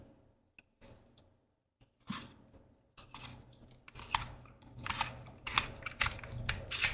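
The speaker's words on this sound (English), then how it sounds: "Come over here and just twist our chassis in." A neopixel lightsaber chassis is twisted into its hilt, giving a run of close scraping, ratcheting rubs and small clicks that start sparse and grow denser and louder toward the end.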